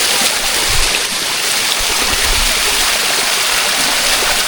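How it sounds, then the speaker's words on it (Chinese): A small waterfall in the Shuangliu National Forest Recreation Area in Pingtung pours with a steady, loud, broadband rush of falling water that stays even and continuous throughout, with no voices over it. "瀑布吗？ 小瀑布。"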